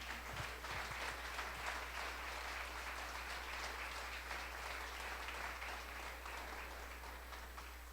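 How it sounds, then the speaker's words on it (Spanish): A church congregation applauds steadily for the whole stretch, a dense, even wash of many hands clapping together at moderate volume, with no talking over it. "¿Cuántos pueden darle un aplauso al Señor?"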